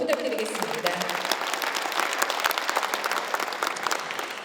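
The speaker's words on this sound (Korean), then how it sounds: "큰 박수 다시 한번 부탁드리겠습니다." Audience applause at a launch ceremony in Gyeongju, a dense, steady wash of clapping filling the room for several seconds, with a brief voice at the start.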